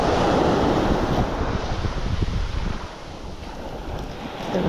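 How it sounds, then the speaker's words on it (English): Surf washes steadily onto a Gulf beach at Manasota Key as the tide drops, a continuous broadband roar mixed with wind buffeting the microphone, no voices. "the waves are not hitting as high"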